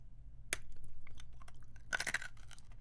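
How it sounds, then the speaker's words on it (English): A crunchy candy cane is bitten with one sharp crack, and after a brief pause a burst of close, loud crunching chewing follows. "I'm taking a bite."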